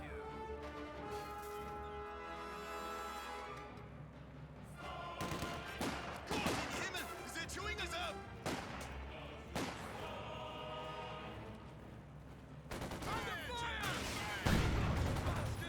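Wehrmacht mortar fire in the real-time strategy game Company of Heroes 2 sounds as a series of heavy booms and blasts mixed with battlefield gunfire, steady and loud throughout, with no talk over it.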